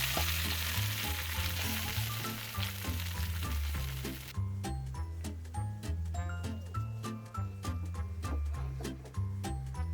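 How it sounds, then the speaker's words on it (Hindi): Tadka for homemade haleem sizzles loudly, a dense crackling fry with garam masala, while a rhythmic low thumping beat plays throughout. "अब ये देखिए ये हमारा तड़का लग गया।"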